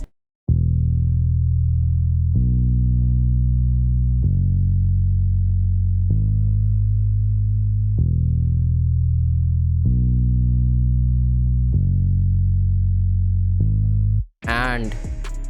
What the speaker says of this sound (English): I'm adding a bass guitar which sounds like this